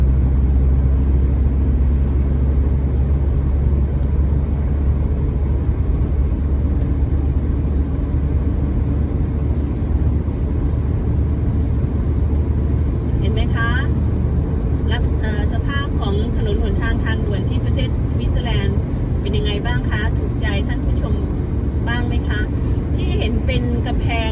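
A car cruises on the motorway from Oberlunkhofen to Cham, its steady loud road and engine rumble continuous throughout, with someone talking over it.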